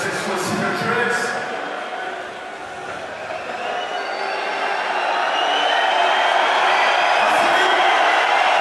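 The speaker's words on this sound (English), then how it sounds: "This French crowd hyping him up." A French crowd cheers and roars at a skateboarding competition in Paris, a broad continuous wash of voices that swells louder through the second half while a commentator talks over it.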